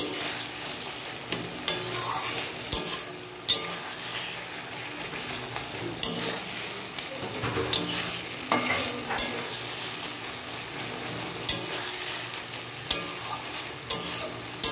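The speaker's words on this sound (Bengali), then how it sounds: "এবার এটাকে ভালো করে আমি নেড়ে নিচ্ছি। খুব ভালো করে এটাকে নেড়ে নিচ্ছি।" Spatula scraping and stirring taro greens with hilsa fish head and oil in a pan, with a soft sizzle underneath and irregular clinks and scrapes across the whole stretch.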